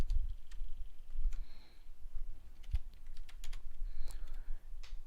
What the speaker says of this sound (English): Go to Google, type in Brexit.